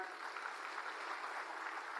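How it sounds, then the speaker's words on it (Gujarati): Crowd applause at a political rally, a dense steady wash of clapping held loud throughout with no speech over it. "માનનીય આપણા રાષ્ટ્રીય કન્વીનર અરવિંદ કેજરીવાલજી માટે એકવાર તાળીઓ થઈ જાય"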